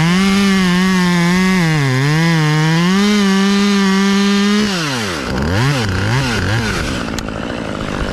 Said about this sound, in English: You hear my saw, it means it's coming.